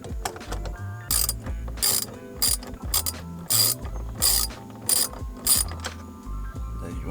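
A hand ratchet backs 7mm bolts out of the cabin filter access panel on a Ford F-series truck, giving bursts of fast clicking pawl ratcheting in a steady on-off rhythm, close up with no talking.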